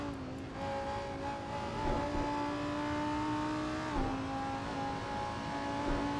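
Simulated Lamborghini Huracan GT3 race car engine in Assetto Corsa, a steady high-revving drone held at near-constant pitch with a brief dip and recovery partway through, loud and continuous with no talk.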